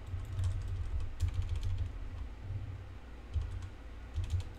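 Fast clacking keystrokes on a new computer keyboard come in quick uneven bursts with brief pauses, close and moderately loud against a low steady background hum.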